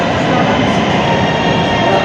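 Lahore Orange Line metro train rolling through an underground station, a loud, steady broadband rumble and roar that fills the whole stretch without letting up.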